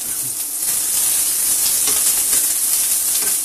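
Onion and garlic cloves frying in heavily flavored oil for tortilla soup make a loud, continuous close sizzle and steamy hiss with faint stirring.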